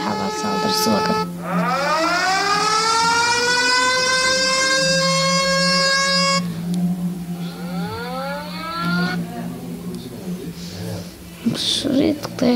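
A wailing air raid siren rises and falls in long sweeping cycles, loud and sustained, with a second fainter wail following and some background noise.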